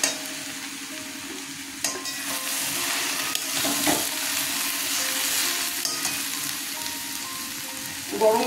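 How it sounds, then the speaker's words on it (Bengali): Cabbage stir-fried in a pan for a vegetarian Ashtami thali, a continuous sizzle with stirring scrapes and occasional louder clanks against the pan, close and alone without talk. "বাঁধাকপিটা এখন টানাচ্ছি।"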